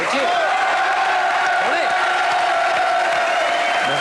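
Studio audience of a French talk show applauds and cheers loudly for an arriving guest, a continuous roar of clapping with whoops and shouts, while someone calls out briefly.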